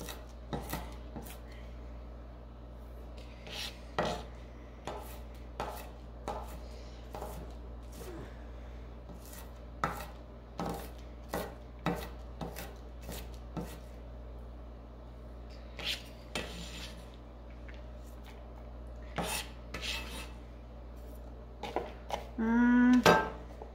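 An onion is chopped on a board with a knife, with sharp, irregular taps and cuts sounding close over a low steady background hum, followed by a brief rustle near the end.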